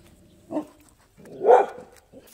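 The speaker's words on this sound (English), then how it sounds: "my goodness, the dog barking" Dog barking outdoors in a garden where crape myrtles are being pruned, two short muffled barks with a faint trailing yip, moderately distant, no talk.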